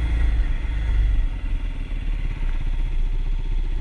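A dirt bike rides on a dusty trail, its engine giving a loud, close, rough mid-pitched drone with a fast pulsing rumble that barely changes throughout.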